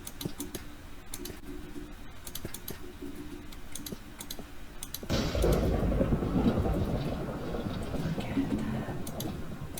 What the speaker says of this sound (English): I like how you can hear lightning down here.